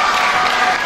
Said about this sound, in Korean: 다시 한번 큰 박수를 부탁드립니다